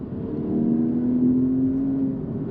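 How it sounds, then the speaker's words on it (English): Porsche 981 Boxster S engine in Sport Plus mode, a steady rising hum of revs held for a couple of seconds, moderately loud and alone without talk. "it just makes it much more open to being revved."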